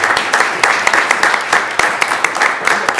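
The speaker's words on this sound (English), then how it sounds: "So double applause for Kennedy Williams." Audience applause at a school board meeting, dense clapping from a seated crowd with sharp individual claps standing out, sustained and steady through the whole stretch with no voices.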